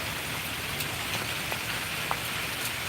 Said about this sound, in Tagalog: Maulan na hapon